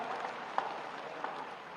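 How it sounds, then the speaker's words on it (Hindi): Faint, distant applause from a crowd at a school award ceremony for a runners-up basketball team receiving a trophy, a soft steady patter of clapping with a couple of sharper claps. "ये चमचमाती ट्रॉफी के लिए जोरदार तालियां"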